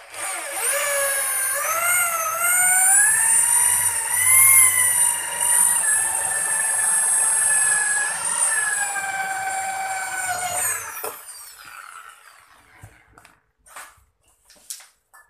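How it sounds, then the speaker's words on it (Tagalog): Step drill biting through metal stock while boring holes for a homemade motorcycle crankcase splitter, a loud steady high-pitched whine with shifting tones for about eleven seconds, then stopping into quiet scattered clicks. "step drill."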